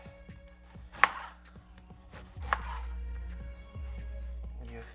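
A knife cuts through a pineapple on a board, two distinct chopping thuds about a second and a half apart amid quiet background hum and faint clicks.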